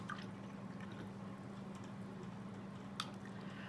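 A paintbrush swished and rinsed in a cup of water while painting a journal, giving soft faint liquid squishes and a few small drips against a quiet room background, with one brief sharper splash near the end.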